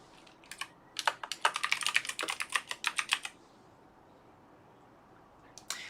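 Rapid bursts of computer keyboard typing as a trading journal gets written, close and fairly loud, clustered in the first three seconds with a short flurry of keystrokes near the end, no talking.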